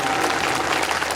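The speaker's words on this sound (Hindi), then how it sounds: "ताली बजा दो बात सही लगे तो" Steady applause from an audience at a spiritual discourse on a guru and disciple, dense and continuous throughout a brief moment without talk.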